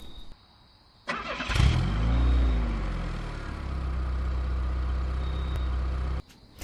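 A person vocally imitates a car engine, starting abruptly with a rising, revving roar and then holding a steady rumbling drone for about five seconds before cutting off suddenly.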